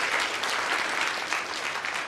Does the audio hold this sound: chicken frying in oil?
no